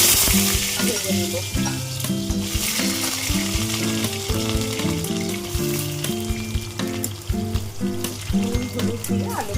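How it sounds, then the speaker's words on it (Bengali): Potatoes with turmeric frying in mustard oil in a wok, a steady loud sizzle and crackle throughout, close up, with occasional stirring scrapes. "হলুদ দিয়ে আলুগুলোকে লাল লাল করে ভেজে নেব"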